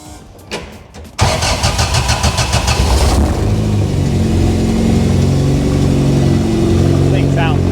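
A Toyota Ultra4 race truck engine fires up loud and close, then keeps revving hard with a steady roar and turbo spool. Brief clicks come before the start, and voices are heard over the engine.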